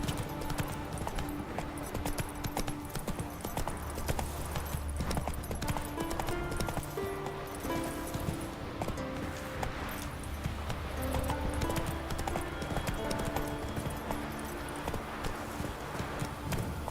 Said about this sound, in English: Magic horse appears.